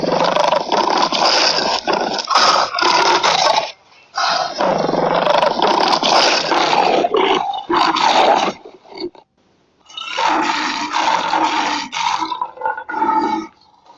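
Deep, rough roaring of a lion comes in long, loud bursts with brief pauses between them, close and alone with no talking.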